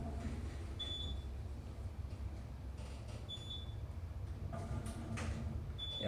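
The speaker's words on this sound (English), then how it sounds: "you can certainly hear the motor beginning to spin up" An Otis Gen2 traction elevator at One Bethany West, built in 2020, gives a steady low motor hum as it spins up while the doors close, with faint chimes and mechanical clicks over continuous machinery noise.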